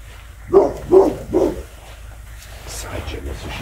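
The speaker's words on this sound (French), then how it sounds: "Ça arrête jamais ce chien." A dog barks three times in quick succession, fairly close and loud, followed by quieter background sounds and faint voices around a family breakfast.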